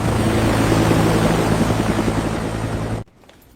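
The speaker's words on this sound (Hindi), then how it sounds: "मैडम, हेलीकॉप्टर उड़ान भरने ही वाला है।" A helicopter idles loud and steady on the ground just before takeoff, its rotor and turbine noise droning continuously for about three seconds before cutting off abruptly into near silence.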